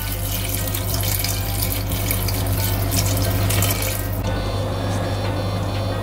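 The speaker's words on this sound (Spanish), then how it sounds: "También le vamos a echar un poquito de agua." Water pours steadily from a tap into a pan of ramen broth, a loud, continuous rushing splash close by that softens slightly near the end.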